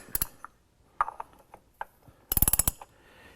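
A ratchet fitted with a 27 mm socket clicks as it loosens the oil filter cap on a 2007 BMW X3, first with a brief pair of clicks, then scattered single clicks, then a quick close burst of about eight clicks.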